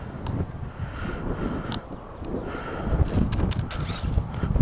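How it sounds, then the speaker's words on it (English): Wind gusting at an outdoor skate park during an RC car bash, a broad rumbling roar buffeting the microphone with uneven surges that swell louder toward the end, with no talk. "Windy."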